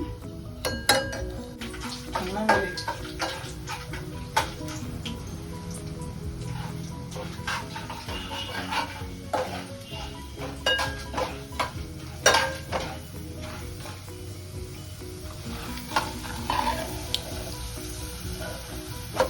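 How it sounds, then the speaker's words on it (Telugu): Urad dal, chana dal, mustard seeds and cumin frying with dried red chillies in oil for a tempering, a close sizzle broken by frequent sharp pops and spatula scrapes against the pan. "అలాగే మినపప్పు శనగపప్పు ఆవాలు జీలకర్ర కొంచెం వేగనిద్దాం"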